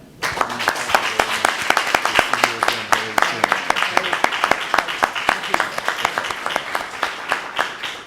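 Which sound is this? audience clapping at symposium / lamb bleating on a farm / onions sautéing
audience clapping at symposium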